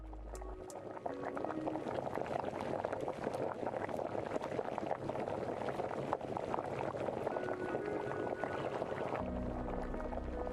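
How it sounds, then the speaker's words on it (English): A steady bubbling simmer, the cooking ambience from the Spirit City Lofi Sessions video game, runs as a soft, continuous wash with no talking. "tasty bubbling, which would go more with the simmering activity."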